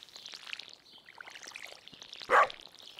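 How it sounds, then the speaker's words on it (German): A watering can tips over crops in the farming game Stardew Valley, giving one short, soft splash of poured water near the end against quiet, sparse game ambience. "irgendwie gieße ich hier gerade alles"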